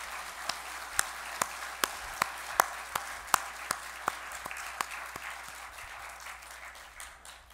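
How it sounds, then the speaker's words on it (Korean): A church congregation claps during a worship service, with many hands applauding in a broad wash punctuated by a few sharper, evenly spaced claps that fade out toward the end. "하나님께 영광의 박수를 올려드리겠습니다."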